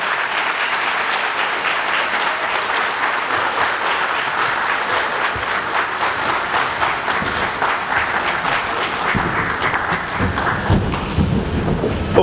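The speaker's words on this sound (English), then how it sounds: "With a round of applause, shall we welcome our chairman, Professor Joshua Ayapa." A large audience at an inaugural ceremony in Kumasi applauds to welcome a chairman, loud continuous clapping sustained for the whole stretch, with a rumbling undertone growing toward the end.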